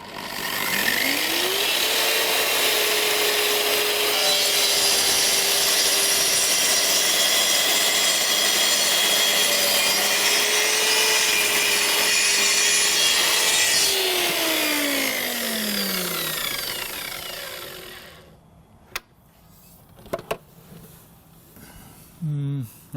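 A Triton TTS1400 plunge cut track saw runs loud and steady through a wood cut for about fifteen seconds, its motor winding up at the start and falling away at the end, followed by a few brief knocks.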